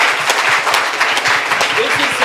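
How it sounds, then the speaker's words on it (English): Audience applause at a closing ceremony, a dense, steady burst of clapping from a large crowd filling the short moment. "So, big round of applause for her."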